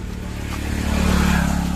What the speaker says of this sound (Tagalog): May motor dumaan.